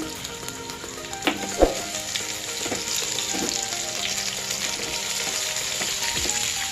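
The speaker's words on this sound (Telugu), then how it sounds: "2 to 3 minutes వేగనివ్వాలి." Onions and cucumber pieces fry in a pan as filling for spinach spring rolls, a steady close sizzle with a few sharp taps and scrapes of a spoon.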